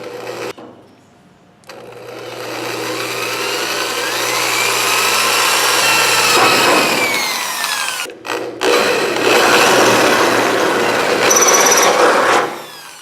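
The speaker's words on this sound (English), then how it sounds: "I kind of messed up my pattern trying to drill it without a pilot hole, so made another one and I'm going to do it right this time" A power drill bores into a handmade hinge pattern during a car body build, a loud sustained whirring grind that rises and holds for several seconds, briefly stops, then resumes near and steady.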